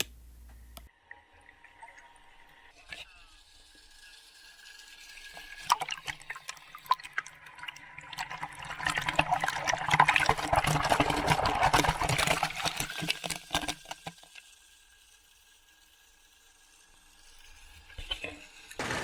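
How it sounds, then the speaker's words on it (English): Underwater sound inside a fountain, captured by an Osmo Pocket camera in its waterproof case: a muffled, churning wash that swells to a loud, dense rush in the middle and then fades back to quiet. "you get that water inside the water sound with the Osmo Pocket"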